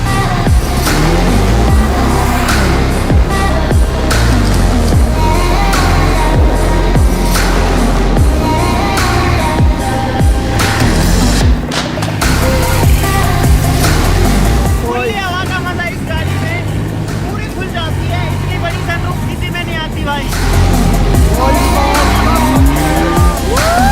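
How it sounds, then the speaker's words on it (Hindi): A four-seat supercar's engine roars loudly and steadily while driving, with a dense rumbling growl and occasional tire noise filling the whole stretch. "गाड़ी की आवाज़ जो है ना वो इतनी खतरनाक है भाई, दूर तक सुनती है इसकी आवाज़।"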